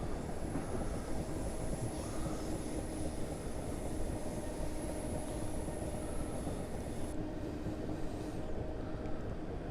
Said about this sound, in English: So there's our train.